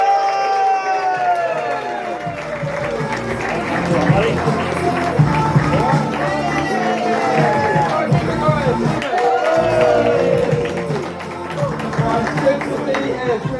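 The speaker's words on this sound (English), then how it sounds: "Let's get that clapping going now. Cheering, whooping, please welcome Scott Fisher." A pub audience claps, cheers and whoops to welcome a comedian on stage, dense sustained applause and shouting voices filling the room throughout.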